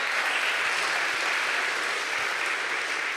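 A crowd at a political campaign event applauds in a dense, even wash of clapping that holds steady throughout without a break.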